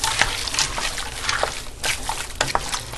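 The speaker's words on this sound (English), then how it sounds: "Stir it up." Frozen vegetables being stirred into a pot of Brunswick stew, giving a continuous wet sloshing and trickling with irregular splashy bursts, close and fairly loud, no voices.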